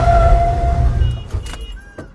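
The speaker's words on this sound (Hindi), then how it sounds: "ये देखना हैंड ब्रेक और फ्रंट ब्रेक दोनों मारता हूँ मैं" A Mahindra ZEO electric pickup brakes hard using both hand and front brakes, a loud close rush of motion and tyre noise fading to a stop, followed by a few faint clicks and thumps.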